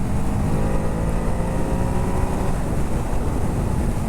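Ducati Hypermotard 950 SP motorcycle pulling hard in fifth gear in touring mode, a steady, loud engine drone with rushing wind that holds constant throughout, with no voices.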